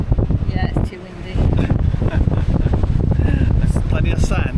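Wind buffets a microphone on a beach, giving gusty low rumbles throughout while people chat nearby.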